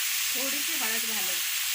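Cut eggplant sautés in a pan with turmeric, a dense steady hiss of frying throughout, with a faint murmur of a voice in the background.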